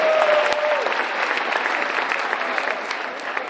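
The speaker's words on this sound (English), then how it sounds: "Give them a nice big round of applause as well." An audience at a live show aboard a cruise ship bursts into loud, steady applause that continues throughout, with a faint crowd murmur underneath.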